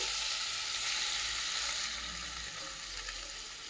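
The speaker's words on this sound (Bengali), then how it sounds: "কড়াইয়ে সাদা তেল বসিয়ে দিয়েছি। এবার আমি সব মাংস ম্যারিনেট করাটা দিয়ে দিচ্ছি।" Marinated chicken pieces sizzle and fry steadily in hot white oil in a kadai, a loud, continuous crackling hiss with no voices.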